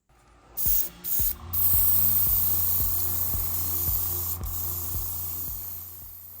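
An aerosol can sprays primer onto the plastic body of a Fujimi Ferrari Dino 246GT model car, with two short bursts followed by a long, close, steady hiss and a faint rhythmic ticking beneath it.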